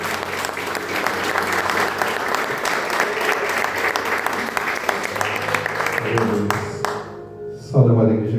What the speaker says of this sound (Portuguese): Dê uma salva de palmas bem para vocês.